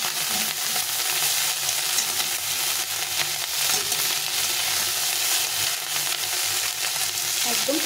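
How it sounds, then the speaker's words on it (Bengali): Small chun fish sizzle steadily in hot oil in a wok as they are flipped and turned, a constant loud crackling hiss with occasional soft scrapes and no talking. "এখন এটাকে উল্টে পাল্টে ভেজে নিতে হবে।"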